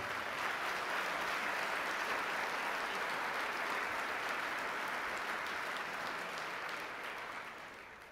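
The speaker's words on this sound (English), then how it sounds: "How about a big round of applause for Vicky and Ray?" Conference audience giving presenters a steady round of applause in a large hall, a dense, even wash of clapping that holds for several seconds before fading near the end.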